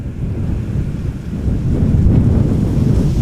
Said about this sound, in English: Oh, that's the wind blowing.